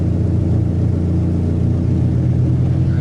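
A Dodge SRT-4 engine, fresh from a wiring repair, runs with a steady, loud low rumble that builds slightly as it revs, heard up close with no talking.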